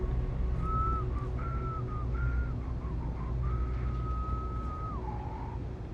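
A character in the video game Starfield whistles a wandering tune, several sustained and sliding notes over a steady low background hum, no speech.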